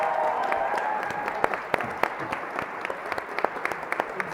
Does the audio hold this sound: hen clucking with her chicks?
no